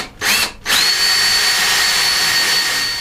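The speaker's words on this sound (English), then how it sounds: "Now I'm just going to mark it out with a small little drill bit." A power drill fitted with a small bit spins up sharply, pauses, then runs steadily, marking hole positions in a boat counter onboard a catamaran; a loud, close, continuous high whine follows two brief starts.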